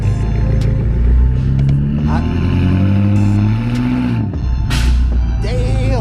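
A fully forged BMW X6M revs its exhaust outside the car, a loud, deep, throaty roar with rising and falling engine pitch, a brief dip partway through, then climbing again.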